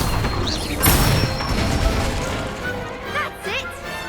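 An Incendio fire spell cast in Hogwarts Legacy, a whooshing burst with crackling impact amid clattering, creaking mechanical noise and faint echoing voice sounds in the background.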